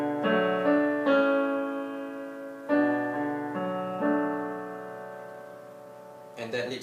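Solo piano plays the quiet second section of a piece, with sustained chords and layered notes ringing out in slow phrases, moderately soft and close, ending with a brief rustle.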